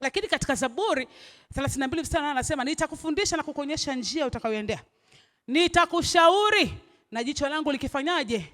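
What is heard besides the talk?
None of the usual background noises is heard.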